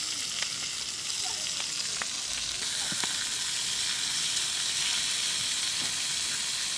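Steak fries in a pan at a campsite, a steady broad sizzle and hiss with occasional small pops and scrapes, fairly close and constant throughout with no talk.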